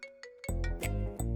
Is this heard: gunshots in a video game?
no